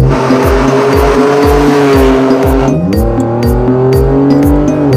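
A Nissan Skyline R34 with a body kit, imported from Japan with 155 horsepower, revs loudly and close up. Its engine tone climbs and shifts steadily while the tires squeal in repeated rhythmic bursts.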